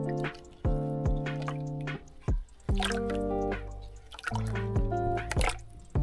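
Raspberry-infused water wine drips and trickles as it drains, with a string of distinct drops and splashes and short ringing tones, close up and quiet, with no talk.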